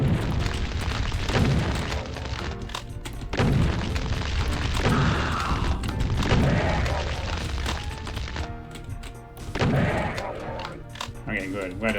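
Rockets explode in the video game Doom, repeated heavy booming blasts with rumbling tails in a dense, loud barrage, with brief lulls between volleys.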